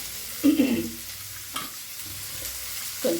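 Ridge gourd chutney ingredients are stirred and fried in a pan, giving a few short bursts of scraping and soft sizzling at moderate closeness, with quiet gaps between them.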